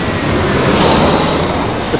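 A Qantas airliner landing at Heathrow, heard from below the approach, gives a loud, steady engine roar with broad hiss close overhead and no talking.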